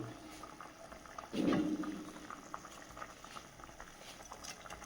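Vegetable curry boils vigorously in an open pot, steady close bubbling with a brief louder surge of spluttering partway through before it settles back into a constant simmer.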